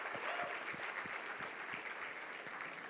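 Audience applause at a church service, a steady wash of clapping from many hands filling the room, with a few distinct louder claps standing out in an even rhythm.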